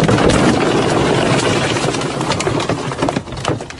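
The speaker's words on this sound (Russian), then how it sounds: "Самолет" Loud, broadband aircraft engine roar dominating the whole stretch, slowly easing off toward the end as it passes.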